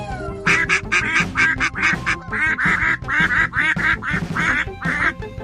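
A flock of ducks quacks loudly and close by, a rapid, busy string of honking calls that never lets up.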